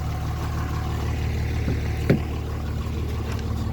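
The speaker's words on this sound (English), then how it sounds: "I'm gonna turn my truck off because it's loud" A pickup truck engine idles close by with a steady low rumble and drone that holds constant throughout, with a couple of faint clicks and knocks over it.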